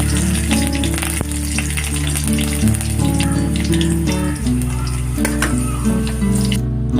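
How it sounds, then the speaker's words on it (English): Green chilies and mustard seeds sauté in hot oil in a pan, a loud, steady sizzle with crackling pops, heard under a droning musical backing. "Saute for 30 seconds."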